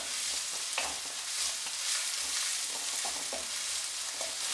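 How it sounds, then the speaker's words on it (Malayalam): Crushed ginger and garlic sauté in hot oil in a pan, a steady, dense sizzle with soft stirring scrapes every second or so, close and continuous with no talking. "ഇഞ്ചിയുടെയും വെളുത്തുള്ളിയുടെയൊക്കെ പച്ചച്ചുവ നന്നായിട്ട് മാറുന്നത് വരെ ഇതൊന്ന് മൂപ്പിച്ചു കൊടുക്കണം"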